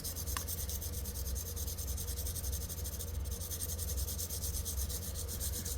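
Graphite tip of a lead holder pencil rubbed back and forth against an abrasive surface to sharpen it, giving a steady, continuous close scraping with a quick fine rhythm and no pauses.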